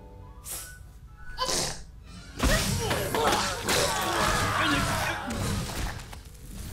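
A sharp sneeze bursts out mid-clip after a couple of breathy intakes, followed by noisy, chaotic sound effects and some voices.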